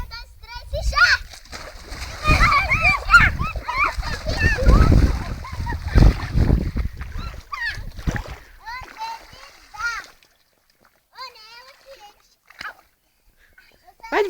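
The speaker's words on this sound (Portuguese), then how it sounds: "Jogar toda a água." Children splash water loudly in repeated bursts, close by, with kids' voices and excited talk throughout and a calmer stretch near the end.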